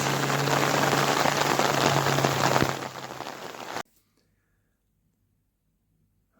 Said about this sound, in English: by now, the rain, the heavens had opened